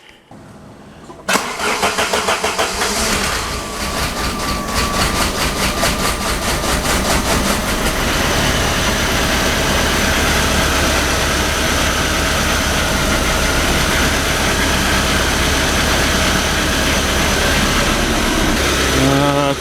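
A 1994 Saab 9000 four-cylinder engine cranks and catches on its first start, then runs loud and rough, not firing cleanly on all four, with a steady uneven idle heard up close.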